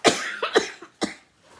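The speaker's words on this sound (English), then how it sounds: "I still got the cough." A lingering cough from someone recovering after a bad bout, heard as three or four close, sharp coughs in quick succession, fairly near and alone, fading to quiet at the end.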